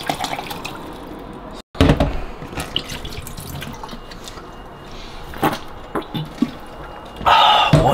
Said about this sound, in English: Let's actually pour half of this into here. Glug glug glug glug glug.